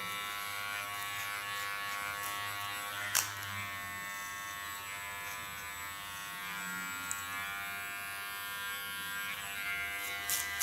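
A small Kione electric hair clipper buzzes steadily while cleaning up a haircut contour, a close, even hum with a few brief clicks and no talking.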